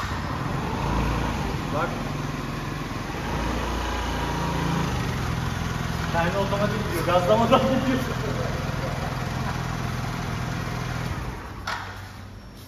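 A Tuna motorcycle under restoration idles with a steady, buzzing light-engine drone, close and continuous, while people talk in Turkish over it.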